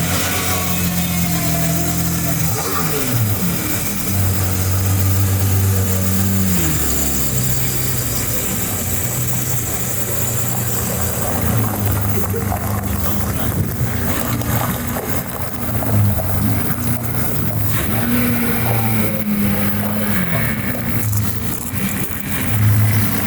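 A green BMW E36 with a swapped LS3 V8 runs continuously, its steady low engine note rising and falling in pitch as it revs, fairly loud and close with no voices.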